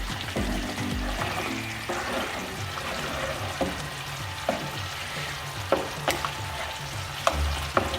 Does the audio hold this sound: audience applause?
no